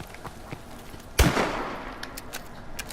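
An NA-45 in Call of Duty Advanced Warfare fires from the hip, one sharp loud shot with a ringing tail, surrounded by fainter clicks and mechanical handling sounds.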